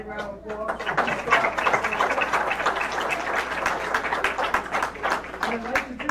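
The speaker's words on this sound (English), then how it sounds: "One more big round of applause." Applause from the audience at a borough council meeting, a dense, steady patter of many hands sustained throughout, with voices talking over it.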